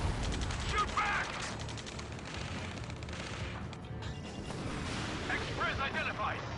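Video game firefight with sustained gunfire and distant artillery-like booms rolling under a constant noisy battle din, while voices shout over the combat.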